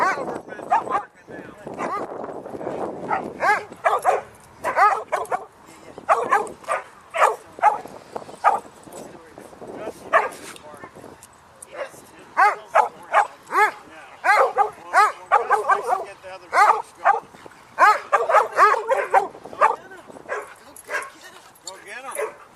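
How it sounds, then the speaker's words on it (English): A Doberman barks repeatedly at a dog park, loud close bursts coming in irregular rapid volleys with yips and whimpers mixed in, while people talk nearby. "Oh, the other Doberman's barking"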